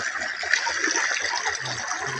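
Irrigation water beside a rice field rushes and gushes steadily close by, a churning flow with bubbling surges and no voices.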